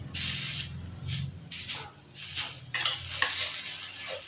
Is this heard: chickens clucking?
no